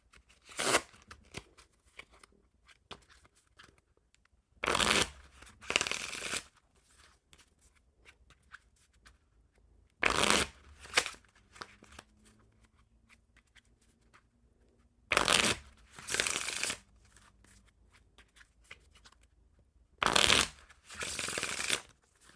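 Bicycle Popeye the Sailor Man playing cards with a slick finish being shuffled, in five distinct riffle bursts spaced several seconds apart, crisp and close with quiet pauses between them.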